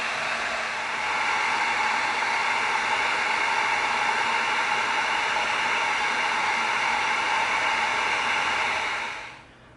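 A heat gun blows on EVA foam with a steady, loud hiss of rushing air that holds for about nine seconds, then cuts off, with no talk.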